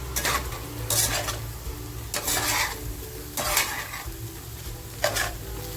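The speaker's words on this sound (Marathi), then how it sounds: "आता बघा ही बुर्जी जी आपण केली होती ती त्याच्यामध्ये मिक्स करून घेते" Egg bhurji being stirred into pulao in a pan: repeated scraping strokes of a spoon against the metal, roughly every second, over a soft steady sizzle, close and fairly loud.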